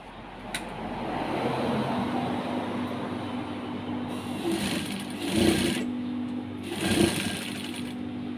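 Electric sewing machine hums steadily as it stitches a phone case pouch, with a few louder bursts of faster stitching near the end, close by and unaccompanied by speech.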